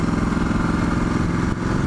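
A Ducati Multistrada 1260S engine runs at low revs with a steady, rough, pulsing rumble, close and continuous with no talking.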